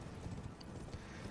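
Horse hooves clopping in Elden Ring as a rider gallops, a steady rapid beat running continuously under game ambience at moderate level.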